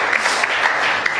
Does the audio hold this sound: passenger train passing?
no